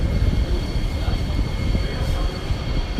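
Suburban Transilien trains at Paris Gare de l'Est station during rush hour, heard as a steady low rumble of rolling rail cars with faint high whining tones throughout the short stretch.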